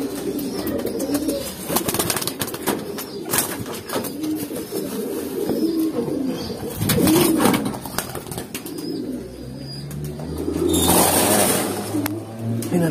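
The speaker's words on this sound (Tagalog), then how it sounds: "Pinalipad na natin yung mga ibon natin." Racing pigeons released during a national race, with low murmuring coos and bursts of wing flapping outdoors, mixed with a steady background hum and a passing vehicle near the end.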